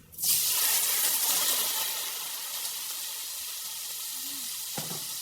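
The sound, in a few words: bean sprouts (toge) frying and sizzling in a pan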